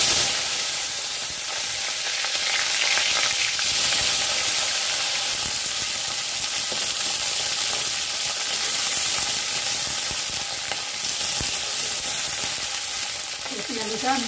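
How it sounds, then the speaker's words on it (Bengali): Cauliflower and potato pieces frying in hot oil, a loud, continuous sizzle and crackle holding steady for over fourteen seconds, close up with no talking. "কপি আলুটা আমি এখন ভালো করে ভেজে তুলে নেব।"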